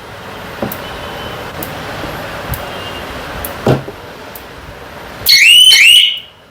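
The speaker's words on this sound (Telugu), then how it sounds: "అలారం అనేది మోగడం జరుగుతుంది" A solar fence alarm on a farm fencing unit, tested inside a shop, sounds one loud, wavering electronic siren near the end after a stretch of low background noise and a few faint clicks.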